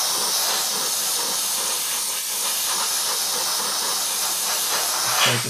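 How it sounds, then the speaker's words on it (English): Paint is sprayed onto the tail of a Trumpeter 1/32 scale AV-8B Harrier model kit, giving a continuous, even hiss that stays close and steady. A small puff is heard near the end. "So we'll just spray those in just like that, coming across this back area."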